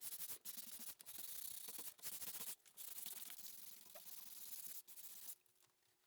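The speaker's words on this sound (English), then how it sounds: "Take your sandpaper." Dried paint on a piece being distressed is scuffed by hand with sandpaper, a close, raspy rubbing in long strokes separated by short pauses, with no voice.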